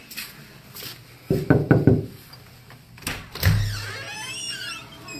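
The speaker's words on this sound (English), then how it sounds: "Let's knock on the door." Several sharp knocks on a door at a gynecologist's office, closely spaced in a short run, heard over room noise, followed by a thud and a faint creak.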